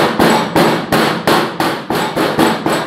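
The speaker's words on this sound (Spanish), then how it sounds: "cubrimos suavemente y damos golpes suavecitos, golpe suave" Breadcrumb-coated beef cutlet for cordon bleu being tapped on a board, seven or eight evenly spaced firm thumps, close and loud with no talk.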